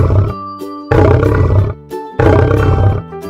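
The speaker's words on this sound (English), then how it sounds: "Is this animal is lion?" A lion roars in two loud, deep, sustained bursts separated by a short gap, each with rumbling growls trailing off at the end. The roars are close and dominate, with no talking.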